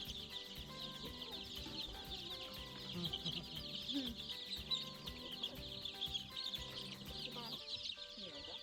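Rhode Island Red and Plymouth Rock chicks cheep in a dense, continuous chorus of quiet, high peeping, with soft background sounds beneath.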